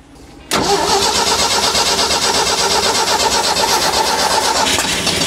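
A 1990s tracked auger machine that had sat parked for over ten years cranks and fires at once, settling into a loud, steady, rough-running engine roar that continues close by without talk.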